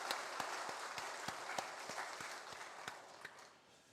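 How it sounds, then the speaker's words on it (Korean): Church congregation applauding the choir during a Sunday worship service, with steady sustained clapping from a crowd that fades out toward the end, heard at a distance. "박수로 한번 감사를 표하도록 하겠습니다"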